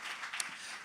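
Live studio audience clapping in a broad, even wash of applause with a single sharper clap standing out, moderately quiet and steady throughout, with no voices on top.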